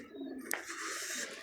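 Single pigeon giving a soft, brief coo close by, faint and quiet over a hushed outdoor background.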